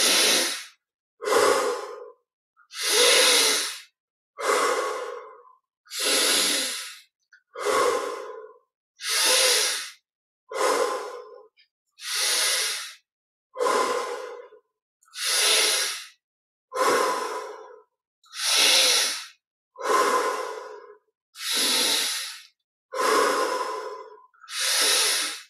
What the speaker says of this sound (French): 20 respirations profondes ici, en adaptant le rythme de la pratique intérieure. Inspire par le nez, expire par la bouche.